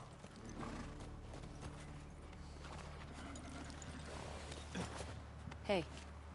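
Horse hooves clip-clop faintly and steadily in the video game The Last of Us Part II, under talking and low background rumble, with a few louder knocks near the end.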